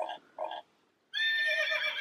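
A bright, shrill horse whinny rings out for about a second, following two short grunting bursts and a pause.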